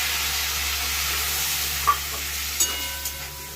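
Food stirred in mustard oil in a pan, a steady soft hiss of frying with a few light taps of a spoon near the end, close and uninterrupted by voices.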